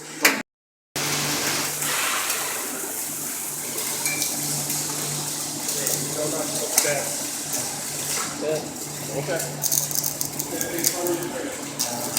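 Steady, dense crackling and hissing of a stick welder arc laying a bead runs for about eleven seconds after a brief silence, loud and close, with a low hum beneath.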